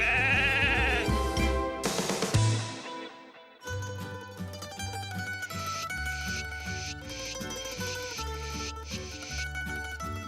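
Sheep bleating as a sound effect, a wavering bleat near the start set against loud, continuous music that runs through the whole stretch.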